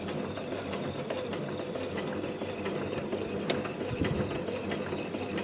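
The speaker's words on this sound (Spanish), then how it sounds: "Y vamos cosiendo" A sewing machine stitches a side zip pocket, its steady mechanical whir and rapid needle clatter running continuously and close, with no talk.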